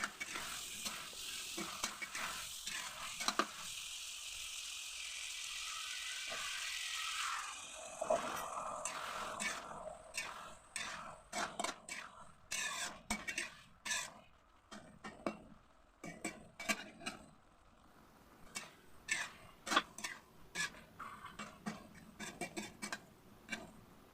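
Loofah and fresh shrimp being stir-fried in a pan, with a steady sizzle followed by a long run of irregular clicks and scrapes from the utensil against the pan, close and moderately loud, without talk.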